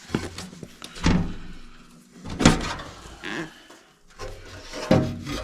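A metal access panel pulled off an old furnace that will not heat, with scraping, rubbing clatters in three separate bursts, close and fairly loud, each fading before the next.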